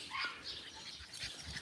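Puppies on a farm give a few short, soft yips and whimpers at close range, with brief bursts scattered across a quiet outdoor background.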